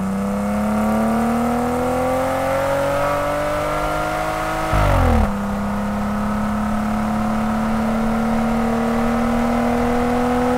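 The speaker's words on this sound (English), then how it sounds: "if I really want the most aggressive, loud, lowest raspy exhaust note that I can find, this is going to be an excellent option." Jeep Wrangler JK four-door with an aftermarket cat-back exhaust revs up, its loud, raspy, low drone climbing steadily in pitch before a sharp blip and drop back to a steady idle-like hum.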